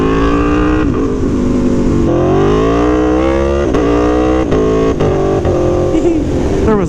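An Aprilia Tuono V4 Factory motorcycle engine revs loud and close, pitch climbing and dropping through repeated accelerations and gear shifts, with heavy wind rumble.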